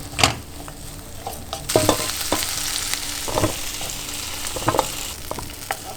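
Onion and tri-colored capsicum tossed in oil in a kadai over high flame, a steady sizzle broken by repeated scraping and clattering stir strokes, close and fairly loud with no talking.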